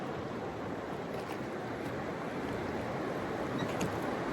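Ferry boat crossing the Nolichucky River on the Appalachian Trail, heard as a steady, broad rush of water and wind noise that holds evenly throughout with no voices.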